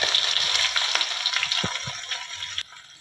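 Chopped onion fries in hot oil with nigella seeds and dried chilies, a bright, dense sizzle with a few pops that runs steadily and then drops suddenly to a quieter level.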